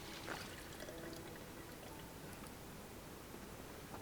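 Water from a drinking bubbler in Project Zomboid streams and pours steadily for several seconds at low volume, a soft continuous trickle with no voices.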